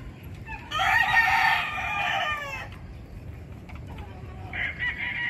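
A bulik gamefowl rooster crows once in a backyard, a loud, strained call lasting about two seconds. Softer clucks and faint background noise follow.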